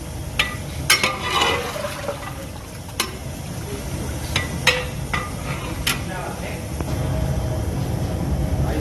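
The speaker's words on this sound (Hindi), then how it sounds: "12 से 13 लीटर पानी यहाँ पे आपने ऐड करना है।" Water pours into a large pot of beef haleem, a running liquid wash broken by sharp clinks and knocks of utensils, with the pouring growing heavier toward the end.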